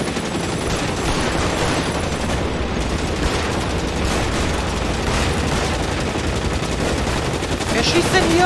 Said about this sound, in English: es klingt nach einer Tommy Gun